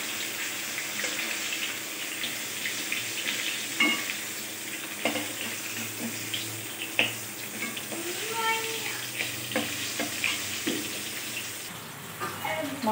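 Fish with chilli frying in a pan, a continuous close sizzle and crackle with occasional utensil knocks, under a soft voice now and then.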